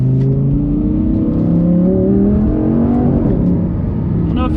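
A Lamborghini Gallardo Superleggera engine pulls hard under acceleration, loud and close, its deep rising drone climbing steadily in pitch for several seconds without a break.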